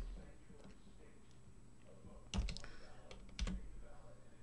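Computer keyboard typing, soft key clicks at a distance with a couple of sharper, louder key strikes, under a quiet background hum and faint speech.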